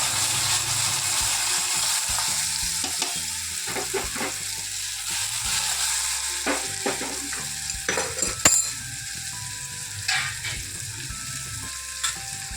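Ridge gourd dropped into hot oil with mustard seeds and asafoetida sizzles and fries steadily, with a few metallic scrapes and clinks from stirring in the pan.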